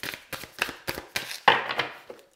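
Thick oracle cards shuffled by hand, a run of short papery rustles and soft slaps in an irregular rhythm, close and fairly quiet, with no talking.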